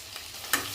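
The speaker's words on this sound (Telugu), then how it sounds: "ఇప్పుడు టమాటా వేసుకుందాం. టమాటా కూడా కొద్దిగా వేగాలి." Tomato and onion fry in a pan for chicken curry, a soft sizzle with a brief stirring scrape in the middle.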